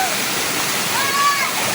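Clear fresh water pours steadily over Tangadan Falls, a dense, even rushing roar that holds close and loud throughout, with a faint brief tone rising briefly over the flow.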